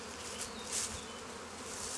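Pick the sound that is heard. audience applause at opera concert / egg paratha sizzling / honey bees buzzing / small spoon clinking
honey bees buzzing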